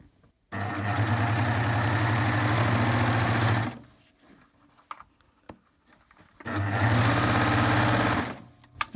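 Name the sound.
Baby Lock serger (overlock machine) sewing legging elastic waistband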